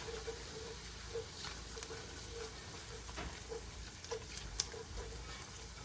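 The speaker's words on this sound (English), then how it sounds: "I'm gonna sprinkle that right in. I'm gonna use a whisk." Flour whisked into pork chop pan drippings, a soft sizzle and faint scraping whisk strokes going on steadily at low volume with no talking.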